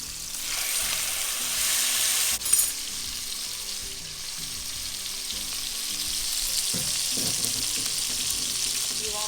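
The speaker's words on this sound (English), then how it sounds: "You want that to boil down some because you want it to get a little thicker." Butter bean chicken stew with lima beans simmers and sizzles in a pot, a steady close bubbling hiss broken by a brief clatter of stirring partway through and softer bubbling afterward.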